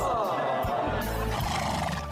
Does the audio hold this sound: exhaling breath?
no